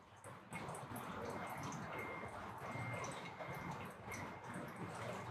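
Hot water poured in a circular motion over ground coffee for home pour-over brewing, a steady close trickling and splashing stream that runs evenly for the whole stretch without a break.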